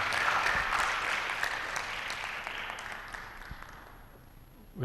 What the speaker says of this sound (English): Let's give her a round of applause again.